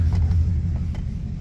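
A 1998 Dodge Ram 1500 pickup with welded and patched exhaust work idles steadily, giving a deep low rumble that stays even and close throughout, with no voices.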